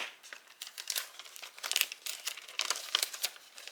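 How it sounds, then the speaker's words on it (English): Crisp crinkling and crackling as a holographic sheet is peeled back from a print, a series of close, irregular rustles and small tearing sounds with no talking. "I'm just peeling it back a little bit here"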